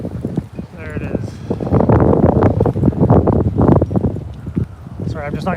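Wind rushes and buffets the microphone outdoors at the National War Memorial in Ottawa, gusting loudly throughout, with brief snatches of voices and footsteps in the background.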